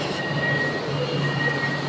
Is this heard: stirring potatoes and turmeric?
no